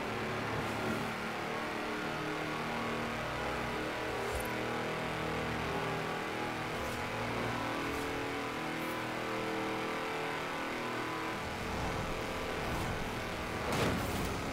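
A modified tractor with a roof-mounted exhaust and a huge spoiler races flat out in the Forza Horizon 4 driving game, its engine roaring steadily and loudly throughout with no talk over it.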